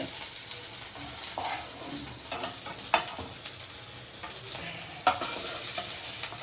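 Fish frying in hot oil in a pan for an Odia kau macha curry, a steady close sizzle with scattered sharp pops and scraping stirs throughout.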